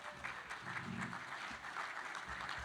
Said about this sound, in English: So you should all give yourselves a big round of applause on that one.